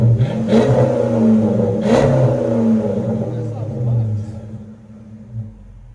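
A 2005 Dodge Magnum RT with the 5.7L HEMI V8 rumbles through its aftermarket exhaust, a steady close-up low drone with brief swells as the throttle is blipped, then settling toward idle.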